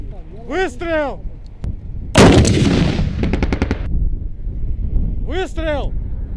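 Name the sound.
gunshots fired during military training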